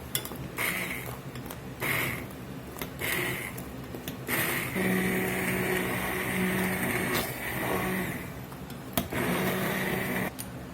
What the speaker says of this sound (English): We'll go ahead and start blending this up a little.